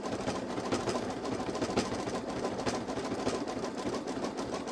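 Babylock Solaris embroidery machine stitching an appliqué bow onto a thick sweatshirt, a continuous rapid mechanical whirring and needle chatter at steady level, close by with no voices.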